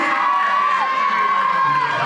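Crowd of children at a school annual function cheers and shouts as a student is called to the stage, a dense continuous roar with a steady high tone running through it.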